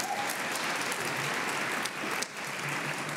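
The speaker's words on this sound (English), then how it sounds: "a round of applause to the mayor" A summit audience applauds the mayor, producing dense, sustained clapping at a fairly loud level that briefly dips near the end, with no speech over it.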